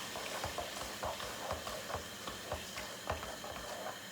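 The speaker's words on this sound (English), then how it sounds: "Give it a stir." Chilli con carne with chopped tomatoes being stirred in a pan, a soft rhythmic scraping repeating about every half second over a steady low sizzle, close and moderate in level.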